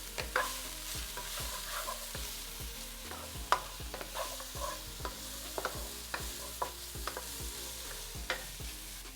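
Vegan Caribbean saltfish ingredients browning in a pan: a soft continuous sizzle under frequent, regular scraping stirs of a utensil against the pan, close and fairly quiet, with no talking.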